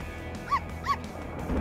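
A dog gives two short, high yips about a third of a second apart, fairly close and clear over a quiet background.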